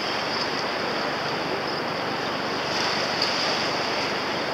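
Ocean waves wash steadily at a beach at Hermitage on Réunion island, a continuous broad surf roar mixed with wind noise on the microphone, with no voices.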